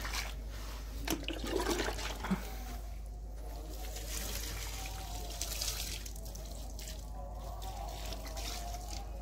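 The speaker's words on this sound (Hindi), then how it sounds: "यार ये अभी पौधों को पानी देना है।" Water pours and trickles while potted plants are watered outdoors, a continuous splashing flow with a few brief louder gushes near the start, no talking.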